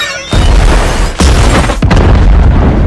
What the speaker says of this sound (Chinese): 布林见状果断拿出打火机点燃泄漏的汽油